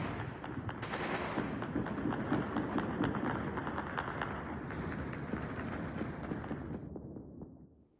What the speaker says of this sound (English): I discovered that gunfire is an almost daily occurrence in the Afghan capital